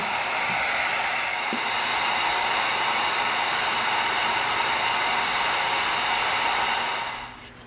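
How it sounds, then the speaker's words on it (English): A heat gun blows hot air onto EVA foam in a steady, loud, hissing rush that runs unbroken for several seconds, then winds down and cuts off at the end. "Gonna bring in our heat gun."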